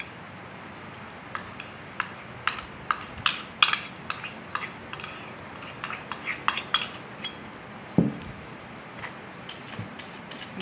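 A utensil scraping and clinking against a bowl as sugar and butter are mixed together by hand for cupcakes, irregular light taps and scrapes in a quiet room with no talking.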